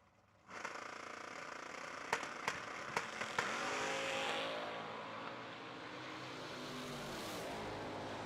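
Two drag cars, a supercharged El Camino and a Vegas station wagon, launch at a Mini-Million drag race. A brief quiet gives way to a loud, sustained roar, with a few sharp pops near the start.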